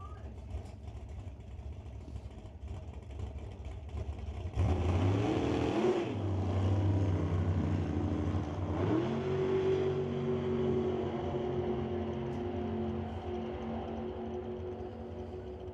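A 1957 Corvette and a 1992 Firebird launch side by side in a Super Gas drag race, engines erupting from a low background rumble into a loud, sustained roar with rising revs as the cars accelerate down the strip.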